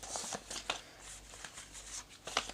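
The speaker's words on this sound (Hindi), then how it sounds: "कोशिश पूरी करती हूँ शफल करने की इनको" A deck of cards is shuffled up close, with quick papery riffles and flicks repeating in short bursts, fairly soft and with no talking over them.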